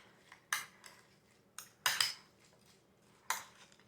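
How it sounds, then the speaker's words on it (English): A utensil stirs green bean casserole in a dish, giving a few sharp, scattered clinks and scrapes against the dish, close but fairly quiet. "Stir this around."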